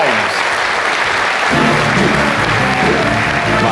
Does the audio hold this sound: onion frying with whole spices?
no